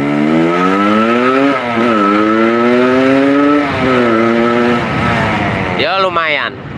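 A motorcycle fitted with a modified sodetan muffler revs loudly and close, its exhaust note rising and falling in long sustained pulls, with a voice breaking in near the end.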